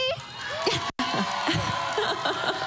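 An outdoor evening crowd at the Fort Worth Parade of Lights cheers and laughs in a brief mixed swell of voices, with some shouting above the general noise.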